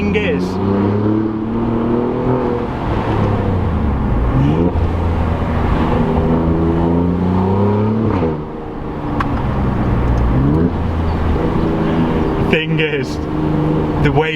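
An Alfa Romeo Giulia Quadrifoglio accelerates hard through its gears, the engine note climbing and dropping at each shift, loud and close, with a short lull midway and no talk over it.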